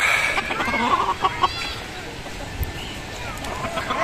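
Pet chickens cluck and chatter nearby during feeding, with scattered bird calls over a quiet yard and someone talking at times.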